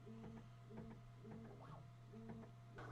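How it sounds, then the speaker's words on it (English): Ender 3 3D printer running on its own, a steady low motor hum beneath quick repeating stepper chirps and whirs in a regular rhythm, close and fairly quiet. "I'm just going to be quiet for a second so you can hear the 3D printer."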